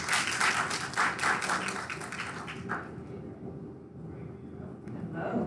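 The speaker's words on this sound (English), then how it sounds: "Another big round of applause for her" An audience at a youth summit gives a round of applause for a woman taking the stage, a dense wash of clapping that gradually thins and fades, with faint voices at the end.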